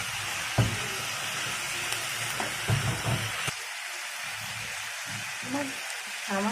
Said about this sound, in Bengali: আলু দিয়ে করলা ভাজি করতেছি।